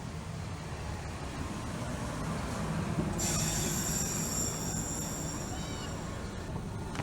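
A train rumbles steadily along the tracks, and partway through a high metallic wheel squeal rises and lingers over the roar.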